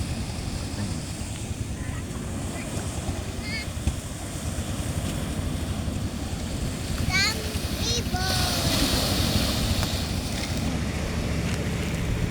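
Steady low drone of a small motor boat running along Tondaligan beach, with wind buffeting the microphone and surf in the background, a few birds chirping and people talking nearby.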